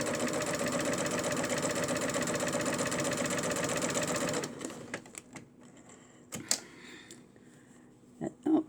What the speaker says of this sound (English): I just run my serger along the edge, then fold it over and sew right along my